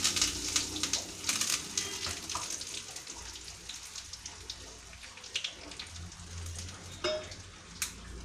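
Dried red chillies and curry leaves crackle and sizzle in hot oil for a Kerala curry tempering, the sharp pops and spits fairly close.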